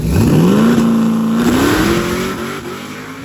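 A loud Pro Street Chevrolet Nova drag car engine roars as it accelerates hard down the quarter mile, its pitch climbing through a gear change before fading into the distance.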